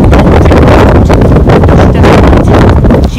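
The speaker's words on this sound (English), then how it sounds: "It's very windy." Loud, heavy wind buffets the microphone nonstop, a dense rumbling roar with no pauses.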